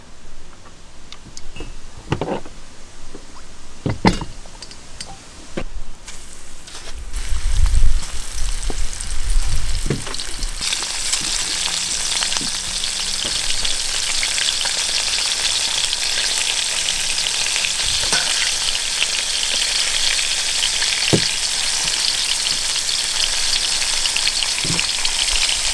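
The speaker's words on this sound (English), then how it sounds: "Then I'm going to cook the scallop. The wok is hot right now," Scallops hit hot oil in a wok with a few clicks and knocks, then a loud, continuous sizzle and crackle of frying settles in nearby and runs on steadily without talk.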